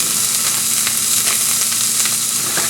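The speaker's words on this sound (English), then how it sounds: "You can use any oil that you want. And in go the poblano peppers, chilies." Poblano peppers and chilies sizzle in hot olive oil in a pan. The frying crackle is steady, close and fairly loud, with small pops and no talking.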